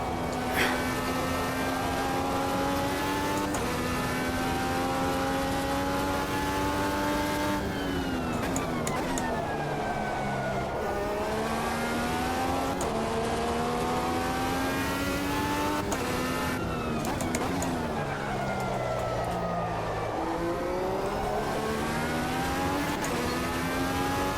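A race car in the Automobilista 2 sim racing game screams through repeated rising revs and gear shifts, a loud continuous engine whine that climbs and drops across the run with no talk.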